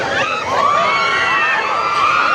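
Loud crowd noise at a busy fun park on New Year, with excited shouts and cheering voices blending into a steady, dense roar close by.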